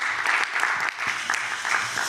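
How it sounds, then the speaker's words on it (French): A room of people at an evening game session applaud one another, giving brisk, steady clapping that stays close and fairly loud throughout the short burst. "On s'applaudit."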